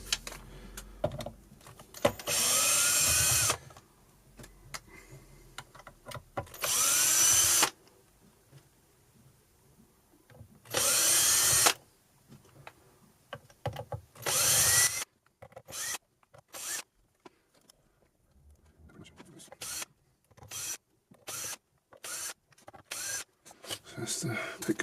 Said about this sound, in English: Alright, so now I've loosened them all off, I'll go around with an electric drill.